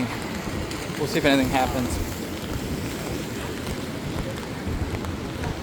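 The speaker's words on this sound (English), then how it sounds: "The rain is pretty consistent." Steady rain falling on a city street between Times Square and Central Park, a constant broadband hiss heard while walking, with a brief word spoken over it early on.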